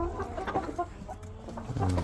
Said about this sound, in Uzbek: Endigina tuxum qo'yishni boshlayotgan tovuqlar